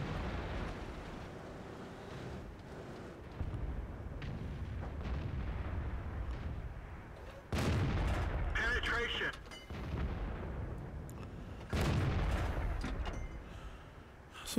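Tank cannons fire in the online game World of Tanks, several heavy booming shots spaced a few seconds apart over continuous engine and battle rumble.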